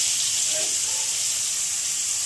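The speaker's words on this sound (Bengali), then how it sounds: "ডিমগুলো আমি একটু ভেজে নিচ্ছি।" A steady, loud hiss of eggs frying in hot oil, a continuous sizzle with no breaks.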